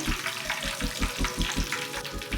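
KFC-style chicken frying in hot oil, a steady sizzle and crackle with rhythmic bubbling pulses, close and fairly loud throughout.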